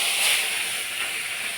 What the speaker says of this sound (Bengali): এবার কড়াইয়ের মধ্যে মাছটা দিয়ে দিলাম